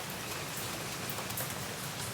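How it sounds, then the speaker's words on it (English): Light rain drizzle falling outdoors ahead of a hurricane, a soft, continuous patter of drops on surfaces, faint and even, with no voices. "This is our current rain drizzle."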